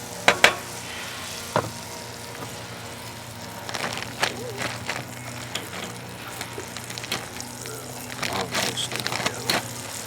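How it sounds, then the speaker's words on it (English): Chicken pieces shallow fry on a flat griddle, sizzling steadily close by, with scattered clinks and scrapes of a utensil stirring and moving them. "The equivalent of like a shallow fry I guess so, yeah."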